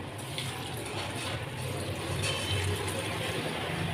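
Water is poured into a pan of aloo keema with coriander and cumin, making a steady, full rushing stream close by, with faint kitchen noise under it.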